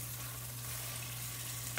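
Garlic sizzling in melted butter with onions in a pan, a soft, steady frying hiss with low hum underneath and a brief clink near the end, no talking.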